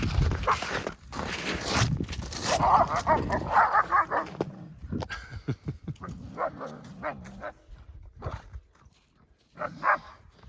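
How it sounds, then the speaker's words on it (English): Several young guardian dogs yip, whine and bark in a rough dominance scuffle up close in winter snow, with shuffling feet and short bursts of noise throughout. "Got the dominance thing going there between the young dogs."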